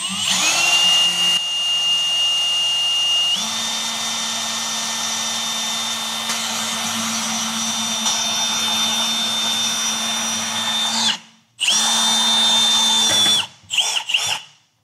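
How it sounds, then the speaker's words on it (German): A small drill bit drilling aluminium whines steadily at high speed, holding a high pitch for several seconds, stopping briefly, then spinning up again with short bursts at the end. "Kleiner Bohrer hohe Drehzahl"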